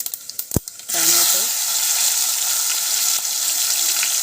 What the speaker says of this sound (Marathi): तेल तापलेलं आहे आणि याच्यात भरपूर सारा मस्त असा जिरा टाकायचा आहे तडतड ते